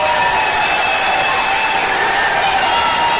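Large crowd at a Donald Trump rally in Greensboro, North Carolina, applauding and cheering loudly in a dense, continuous roar with no breaks.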